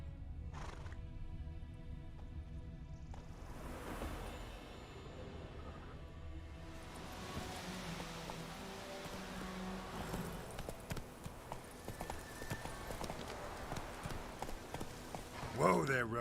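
Roach the horse from The Witcher 3 video game, hooves clip-clopping in a trotting rhythm with a neigh near the start, under game music and character voices.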